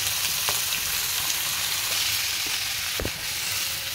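Turnip pieces sizzling in hot oil with chillies, a steady loud frying hiss with a few soft stirring knocks, no talk.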